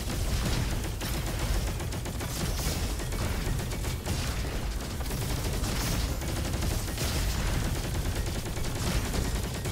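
Gun in the shooter game Roboquest firing rapidly and continuously, a dense stream of shots layered with mechanical clatter and impacts, loud and unbroken throughout.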